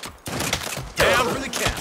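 A burst of rapid gunfire as a magazine is emptied in the Saints Row video game, loud close shots in two clusters with sharp onsets and gaps of quieter game sound between.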